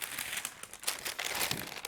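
Parchment paper crinkles and rustles close up in a quick, continuous series of papery crackles, laid over fabric in an iron-on adhesive craft project, with no talking.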